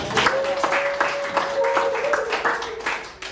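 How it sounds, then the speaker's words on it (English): Online class participants clap together in a scattered burst of applause that runs steadily for a few seconds, with voices talking over it. "let's take applause for today"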